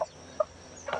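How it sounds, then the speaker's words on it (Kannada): A village chicken gives three short, soft clucks, spaced apart, at the start, middle and end of an otherwise quiet stretch. "ಇಷ್ಟೊತ್ತಕ್ಕ ಕೋಳಿ ನಿಂತ್ಕೊಂಬಂದಾಯ್ತು"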